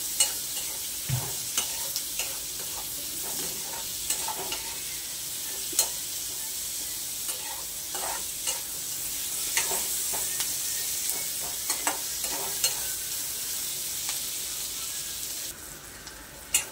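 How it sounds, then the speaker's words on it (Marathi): Chopped onion fries and hisses steadily in oil in a pan while a spoon scrapes and stirs it, producing recurring soft clinks and scrapes over a continuous sizzle. "थोडा मिक्स करून घेऊया म्हणजे तेलात छान मोकळा होतो तो आणि गोल्डन ब्राऊन कलर येईपर्यंत त्याला आपण भाजून घेऊया"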